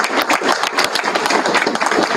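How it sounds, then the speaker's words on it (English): Audience applauding at a school change of command ceremony: brisk, dense clapping from a room of people, close and steady with slight swells across the short stretch. "So a special round of applause, please, to the entire staff and team for helping to put this together"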